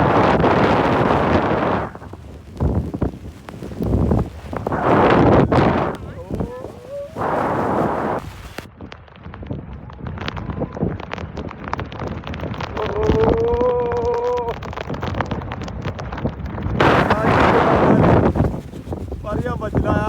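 Strong gusty wind on a mountain trek in the Netravati hills, buffeting roughly and loudly in repeated surges with brief lulls between, while people talk through it.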